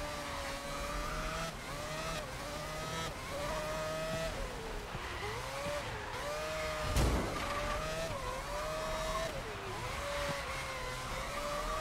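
A racing car engine screams at high revs, pitch rising and dropping through gear shifts, with a brief screech of tires partway through.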